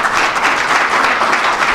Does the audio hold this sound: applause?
yes